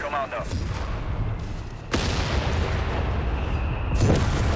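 Airburst artillery shells burst over a capture point in the World War II strategy game Company of Heroes 3, heavy booms and crackling blasts layered over dense battle noise and scattered gunfire, with a commentator's voice faintly underneath.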